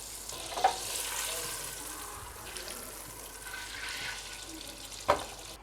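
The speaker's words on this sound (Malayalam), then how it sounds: "അപ്പോൾ നമുക്കിതിനെ ബട്ടർ പാനിലിട്ടിട്ട് ഒന്ന് ചൂടാക്കിയെടുക്കാം" Chicken cooks in a butter pan, giving a soft, fairly faint continuous frying hiss, with two brief clanks of cookware near the start and end.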